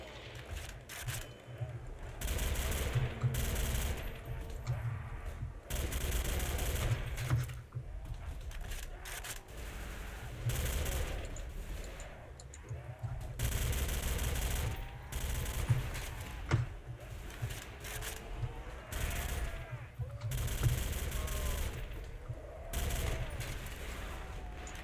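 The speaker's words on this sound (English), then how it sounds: "It's PPSH for different skin. Sounds the same, shoots the same." Rapid automatic bursts from a PPSh submachine gun in Call of Duty: World at War custom zombies, crackling near-continuously for the whole stretch with brief gaps between volleys and other game noise underneath.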